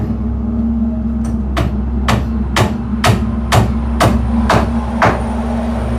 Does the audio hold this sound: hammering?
yes